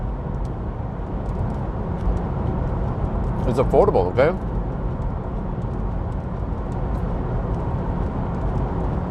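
Steady broadband road and tyre roar fills the cabin of a Volvo EX30 Twin Performance Ultra electric car while driving, constant and fairly loud throughout, with people talking over it.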